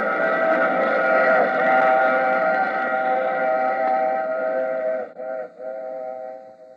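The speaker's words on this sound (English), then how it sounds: "I take this same train every week at this same time." A train sound effect in an old-time radio mystery drama gives a long, steady, harmonic whistle-like wail that stutters and breaks up near the end.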